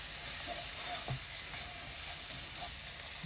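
Masala for Kerala-style chicken roast frying over a low flame, a steady close sizzle with faint clinks and scrapes of stirring, no voices.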